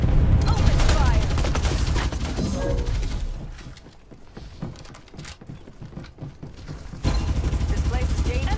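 Rapid gunfire bursts in the battle-royale shooter Farlight 84, loud and dense over busy game sound. The shooting eases in the middle, then returns hard near the end. Game voice lines are heard in places.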